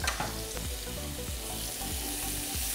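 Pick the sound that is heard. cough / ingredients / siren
ingredients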